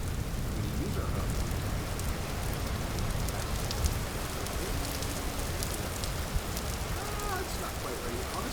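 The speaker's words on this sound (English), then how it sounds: "we're in an area that's raining a lot right now." Steady rain falls in the Vintage Story video game, a continuous even hiss of drops filling the whole stretch at a constant level, with no clear voice over it.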